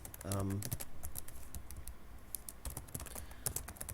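A computer keyboard clatters as code is typed, with a continuous run of close, crisp keystrokes throughout and a brief voice near the start.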